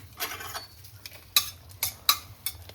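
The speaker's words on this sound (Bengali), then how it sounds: "এবার আমি ফোড়ন দিয়ে দিলাম 2টো শুকনো লঙ্কা" Two dried red chillies dropped into hot oil for tempering in a home kitchen, giving a few sharp crackling pops and sputters over a soft steady sizzle, close and moderately loud, with no talk.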